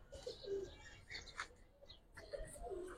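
An Indian Chini Kaldom pigeon coos in short, soft, throaty bursts at fairly close range, with other birds faintly audible around it and no clear speech.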